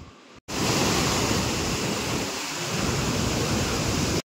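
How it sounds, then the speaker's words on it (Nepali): The Koshi river's water rushes strongly and loudly, a dense, unbroken roar of churning flow heard up close after a brief moment of silence at the start. "यस्तो बेसरी पानी बग्यो।"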